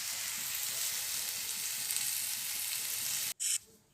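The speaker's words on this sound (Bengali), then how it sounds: "এখানে আলুটা বসিয়েছি, আলুটা ভাজতে দিয়েছি" Potatoes frying in a pan, a steady close hiss and sizzle with faint crackles, briefly broken near the end by a short louder burst.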